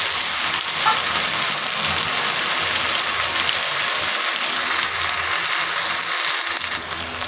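Prawns frying with chili, ginger and garlic paste in a pan, a loud, dense, continuous sizzle that holds steady and close for the whole stretch, no voices.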